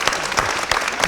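An audience at a violin concerto masterclass applauds steadily and fairly loudly in a dense, even wash of clapping that carries through the whole moment.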